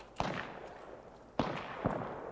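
Gunfire in the battle-royale game Apex Legends: a few separate sharp bursts spaced apart, each cracking out and trailing off into a reverberant tail over a low background.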